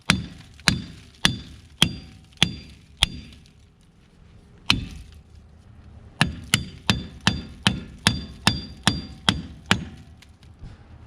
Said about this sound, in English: I'm gonna have to smash on this with a hammer for a little bit and get it to come off.